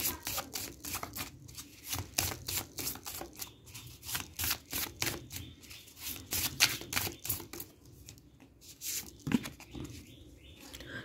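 Tarot cards are shuffled by hand in a rapid series of crisp riffling bursts and flicks, close and fairly quiet, repeating over several seconds with brief pauses.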